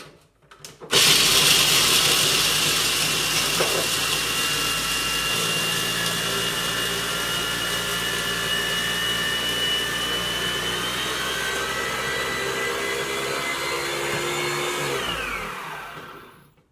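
A kitchen blender grinds macadamia nuts for ginger chocolate fudge, starting abruptly and whirring loud and steady for about fifteen seconds before spinning down, with no talking.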